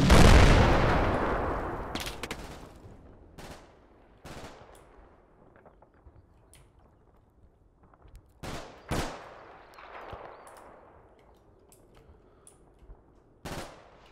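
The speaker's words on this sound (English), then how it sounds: "Ooh, that's an assault gun. 152 mil." Bombardment from a 152 mm assault gun in Combat Mission: Red Thunder: a heavy opening boom that rolls away, then scattered shorter blasts and cracks spaced across the quiet stretch that follows.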